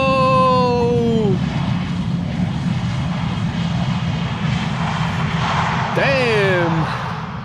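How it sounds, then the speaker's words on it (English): A Vueling Airbus A320 arriving at Schiphol from Barcelona roars steadily with a loud jet engine rumble, while whining engine tones sweep downward near the start and again toward the end. "It is Vueling flight 8309, A320 arriving from Barcelona"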